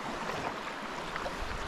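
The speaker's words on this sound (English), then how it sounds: "A lot of water coming in for the tide." Tidal water surges in at Maces Bay, New Brunswick, a broad continuous rushing hiss of moving current and surf, steady and fairly faint with no voices.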